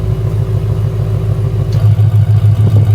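A 2024 Ford Mustang GT with a full aftermarket exhaust in quiet mode, its V8 rumbling steadily close by and then blipped through a few short revs near the end, loud and deep with no talking.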